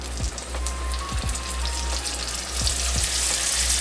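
Goose meat frying in an oiled saucepan, a steady close sizzle with scattered crackles and pops across the whole stretch, no voices.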